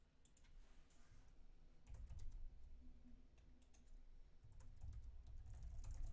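Typing on a computer keyboard at a desk while sending a message, a steady run of light clicking keystrokes over a low background hum, close and moderately quiet with no voices.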